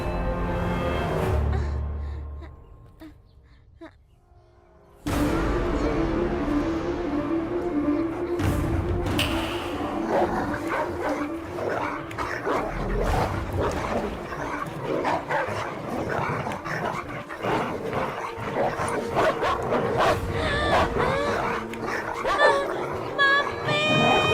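Dogs set loose on a girl bark, yip and growl in a busy, agitated scene, the outburst starting abruptly after a quieter opening and continuing with dense barking mixed with voices and commotion.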